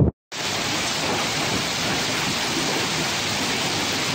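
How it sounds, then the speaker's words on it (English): Heavy rain pours loudly and without a break during a severe thunderstorm, with the low rumble of thunder mixed in. It starts after a brief gap. "Just got the Google notification that there's a severe thunderstorm warning."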